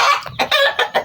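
Chickens clucking close by, a few loud, short, rapid clucks broken by brief pauses, with no other voices.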